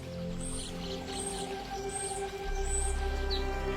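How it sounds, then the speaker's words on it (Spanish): Weaver birds in Africa give a few high, thin chirping calls at regular intervals, fairly faint over a steady low hum and distant background noise. "Eran los pájaros tejedores."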